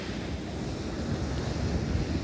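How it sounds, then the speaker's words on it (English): Wind buffets the microphone in a continuous low roar, blended with the wash of surf on a beach. "It's quite windy down here as well."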